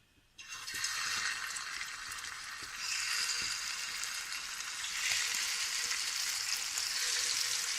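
Gola kebabs fry slowly over low heat in shallow oil in a pan, a steady close sizzle and crackle that starts abruptly and swells slightly louder over several seconds, with no talking.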